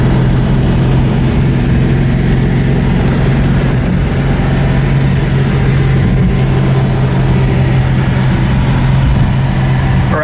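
A 1978 Citroen Ami 8 small car rolls along, its engine giving a steady, loud, low droning hum with road noise, heard from inside the car for the whole stretch without speech.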